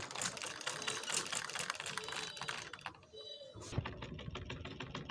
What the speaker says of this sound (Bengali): এখন আমি এটা সেলাই করে নেব একইভাবে।